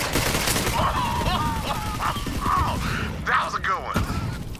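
Submachine gun fire in Borderlands 3 as a player fights Jabber enemies, dense rapid bursts sounding close over busy game effects and creature chatter throughout.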